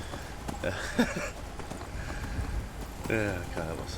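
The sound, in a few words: horse hooves clip-clopping in video game Skyrim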